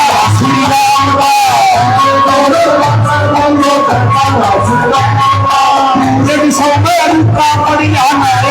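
Crowd at a political rally with the Chief Minister present, voices shouting the Jai Shri Ram chant together, loud and continuous over amplified sound with a rhythmic pulse throughout.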